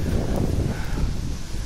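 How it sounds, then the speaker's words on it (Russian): Strong tramontana wind in Croatia roars and buffets steadily, a dense, continuous rush with a heavy low rumble and no voices. "И волны все больше, и ветер все сильнее."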